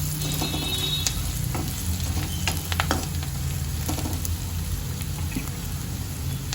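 Potato sabzi mixture of spices and salt stirred in a hot pan, a constant frying sizzle broken by scattered clicks and scrapes of the spoon, fairly quiet and close, without speech.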